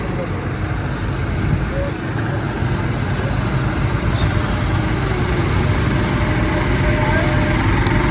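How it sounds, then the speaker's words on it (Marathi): Boat engine on the river at Omkareshwar, a steady low motor drone that holds level throughout, close and fairly loud with wind or water noise blended in. "तो बोट चालली अजून खाली बघा"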